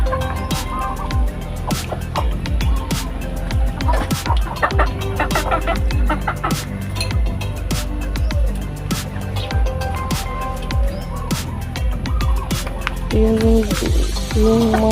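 Chickens at a rural provincial yard cluck and peck while being fed, with busy overlapping clucks and scattered pecking taps close by.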